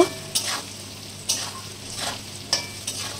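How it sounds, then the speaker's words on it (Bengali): Potato pieces frying with salt and turmeric for aloo chana masala, a close steady sizzle broken by regular scraping stirs about once a second. "আলুটা ভাজা হয়ে গেছে, আর একটু সামান্য ভেজে নেব।"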